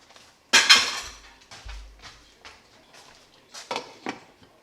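A lid clanks onto a pot of Jamaican curry chicken with a sharp metallic clatter, followed by a few softer knocks and rattles of cookware nearby.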